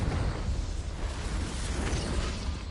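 A Confringo blasting spell explodes in Hogwarts Legacy, a dense, rumbling burst of low boom and crackle that fills the short moment at steady loudness, with no speech.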